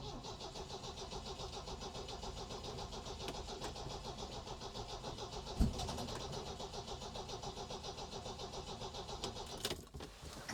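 A supercharged MGB engine cranks repeatedly without catching, a steady rhythmic starter churn running nearly ten seconds with a sharp knock midway, close and loud, no talking.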